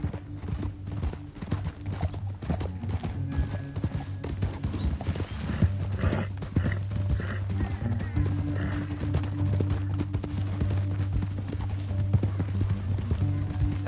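Horse hooves clip-clopping in a Western-themed video game, steady rhythmic hoofbeats over a low droning music bed, with a brief whinny and no clear speech.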